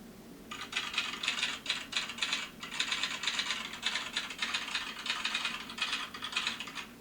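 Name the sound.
typewriter typing sound effect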